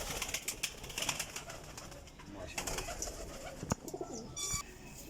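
A pigeon coos softly and repeatedly, close by amid faint background chatter and scattered clicks.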